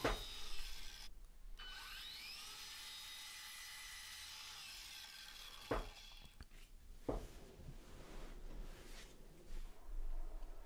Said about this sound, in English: cut these pieces down on the miter saw